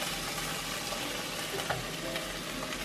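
Tuna and leek stir-fried in hot oil, a continuous close sizzle and crackle with occasional scraping stirs, no voices.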